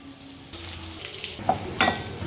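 Marinated cauliflower pieces fry in hot oil for crispy cauliflower 65, giving a continuous sizzle with a few louder spits and stirring sounds near the end.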